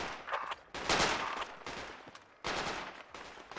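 Rapid gunfire rattles in bursts in the video game Project Reality, with loud, close crackling shots and some firing further off, pausing briefly between volleys.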